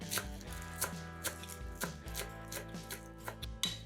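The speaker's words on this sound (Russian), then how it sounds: "Нарезаем пучок петрушки." A kitchen knife chops through a bunch of parsley in a quick series of crisp, close strikes, steady and fairly regular, over quiet background music.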